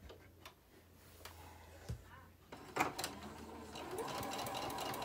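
A sewing machine stitches a seam on a Christmas pillowcase, starting with scattered clicks and taps and then settling into a steady, quiet whirring run of stitching that grows slightly louder toward the end.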